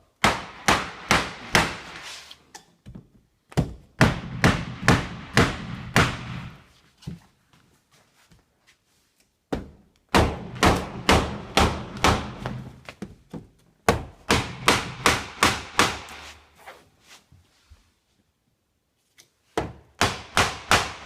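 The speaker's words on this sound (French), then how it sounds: "un ciseau à bois, un marteau" A hammer drives a wood chisel to cut a notch while moving a cast iron bathtub, producing bursts of sharp, rapid, evenly spaced strikes, loud and close, separated by short pauses.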